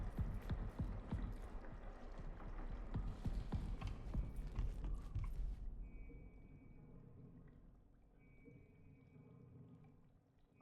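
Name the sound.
footsteps in a video game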